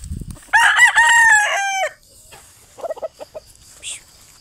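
A rooster crows loudly and close by in one long harmonic call, followed by quieter clucks from nearby chickens.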